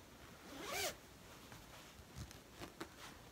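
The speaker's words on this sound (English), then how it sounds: "There is a really fun green zip on the top." A green zipper on a twill tote bag is pulled in one quick close rasp, followed by faint soft handling rustles of the fabric.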